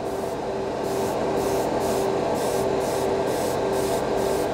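A steady, hissing airbrush spray of Vallejo Premium acrylic paint runs continuously at close range, with a faint pulsing rhythm in its texture and no talking.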